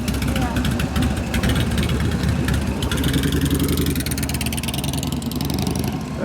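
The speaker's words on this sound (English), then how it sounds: "And the bike's idling now." A custom chopper motorcycle, an Evo-engined rigid bobber built on Harley parts, idles with a steady low throbbing rumble close by, running continuously and unevenly beneath a person talking.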